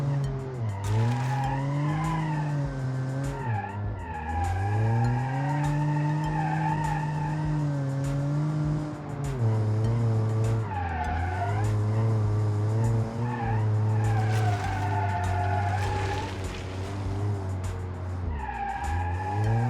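An inline-three turbo hatchback in the BeamNG driving game revs up steadily through several gear changes, its engine tone climbing and dropping again, loud and continuous with no talk.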